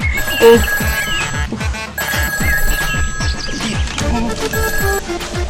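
An old-style telephone bell rings in repeated bursts, loud and close, over a backdrop of music.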